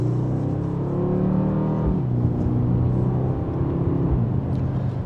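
Mercedes-Benz GLS 63 AMG SUV in Sport Plus, second gear, accelerating mildly from inside the cabin, a steady engine hum that rises in pitch, drops at a shift, then climbs again.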